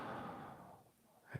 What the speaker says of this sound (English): exhaling and inhaling